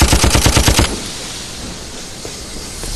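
Warning gunshots fired in a Chinese historical TV drama: a rapid burst of about a dozen loud, sharp shots in quick succession that stops abruptly after the first second, leaving a quiet background.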